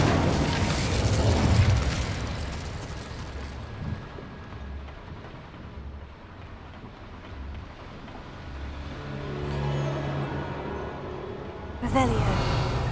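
The Incendio fire spell in Hogwarts Legacy erupts with a booming, roaring burst of flame, fades to a low rumble, then flares again with a second sharp whoosh near the end.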